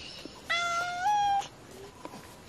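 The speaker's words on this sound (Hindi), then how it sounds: "बिल्ली आ गई है।" A hungry-sounding cat meows once at a home in Uttarakhand, a clear, close, rising cry lasting about a second, with faint household sounds around it.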